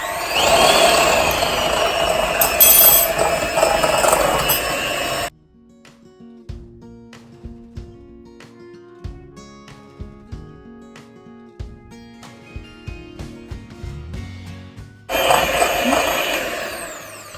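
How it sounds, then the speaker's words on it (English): A whisk beats 40 grams of sugar in a bowl until it turns creamy and pale, making rapid, light clinks and taps against the bowl. Louder, denser bursts of sound come just before and just after the whisking. "with the same whisk, we'll just whisk it till it's really creamy and pale"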